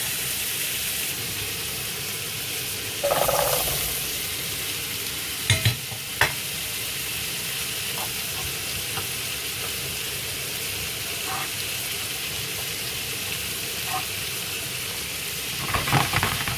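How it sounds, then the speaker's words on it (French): Potatoes cooking in a pan give a steady broadband sizzle throughout, with occasional soft clinks and stirring scrapes, and no talk over it. "de l'autre côté, je vais faire cuire mes pommes de terre."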